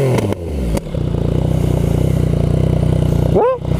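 A new-model Yamaha MT-09 motorcycle engine rumbles loud and steady up close with an even throb, while a voice rises briefly near the end.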